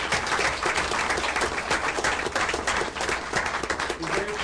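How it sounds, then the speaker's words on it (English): City council meeting audience giving a hearty round of applause, dense continuous clapping from many people close by, loud and sustained for several seconds. "Let's give them all a really big round of applause."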